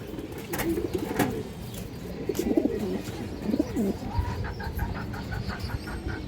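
Pigeons coo in repeated low, throaty phrases, several birds close by with overlapping calls, while a few sharp chirps and faint background noise come through between the coos.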